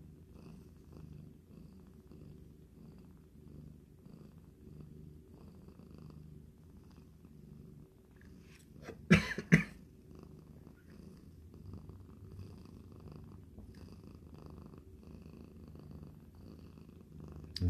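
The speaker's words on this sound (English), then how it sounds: "kitten's purring now" Close, quiet, steady purring from a foster kitten runs on and on in a rhythmic rumble, with a short burst of rustling or handling noise midway.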